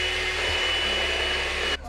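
Steady high-pitched whirring of an electric whisk beating a French toast egg mixture, running loud and unbroken close by for nearly two seconds before it cuts off abruptly.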